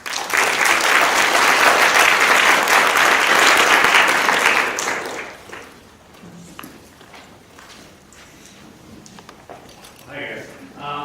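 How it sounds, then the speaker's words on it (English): An audience at a genomics forum session on cannabis gives a round of applause, loud and dense for about five seconds before fading into scattered claps, shuffling and a brief voice. "Please give them a round of applause."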